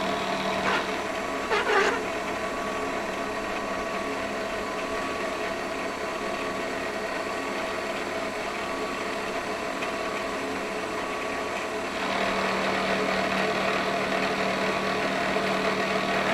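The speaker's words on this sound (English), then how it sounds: "The width of the part can be reduced by milling on the sides." A manual milling machine cuts along the side of a part with a steady mechanical hum and whine that grows fuller and louder after about twelve seconds.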